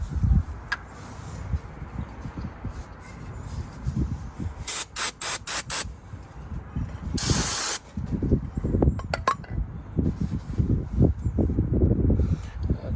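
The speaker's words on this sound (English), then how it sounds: "I'm gonna go ahead and hit it with some brake cleaner" Brake cleaner sprayed onto the front brakes of a Honda Pilot during a pad and rotor job: several short hissing aerosol bursts followed by one longer blast, close up over low rumbling garage noise.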